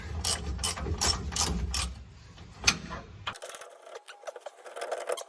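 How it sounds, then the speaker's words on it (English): A ratchet wrench clicks in quick, close bursts while a rear shock absorber bolt is loosened on a 2011 Chevrolet Silverado. The sound turns thinner and drier after a brief pause, with no talking. "Just grab your wrench and get it the rest of the way out."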